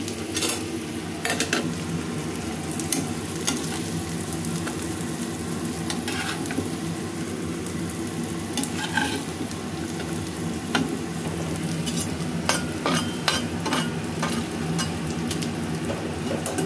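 Chilies fry in a pan with a steady, even sizzle throughout, broken by occasional clicks and scrapes of a stirring utensil against the pan, with no talking.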